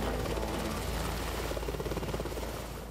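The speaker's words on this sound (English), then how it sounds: "We got 2 helicopters in the air" Helicopters fly overhead during a staged downed F-15 pilot pickup, their rotors making a loud, continuous rhythmic chopping thump that fills the scene without pause.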